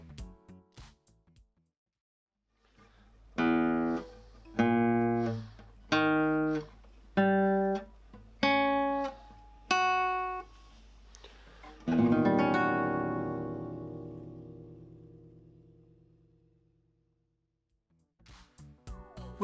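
A classical guitar plays a series of detached chords from Ginastera's Guitar Sonata, third movement, then lets one final chord ring out and slowly decay; the playing is moderately quiet and close.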